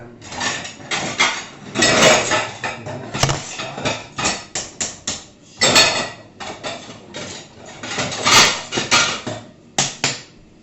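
Dishes, pots and cutlery clatter and clank in bursts as someone rummages through a cluttered kitchen hunting for a knife, with sharp metallic knocks and scraping close by and brief pauses between bouts.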